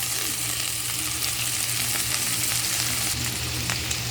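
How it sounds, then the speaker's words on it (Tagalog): Onion sautés in a hot pan for ginisang monggo, a Filipino mung bean stew, producing a loud, continuous sizzle with light stirring and no talking. "Lagay na natin ang ating sibuyas."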